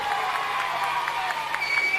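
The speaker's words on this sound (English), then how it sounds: "give yourselves a round of applause" Audience applause from the ringside crowd at a holiday-park evening show, a steady dense wash of clapping throughout with faint voices mixed in.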